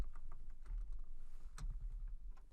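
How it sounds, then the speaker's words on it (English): A cat treads across a computer keyboard, keys clicking in an irregular patter of soft taps close to the microphone, with no one speaking. "Sorry, I have a cat on my keyboard."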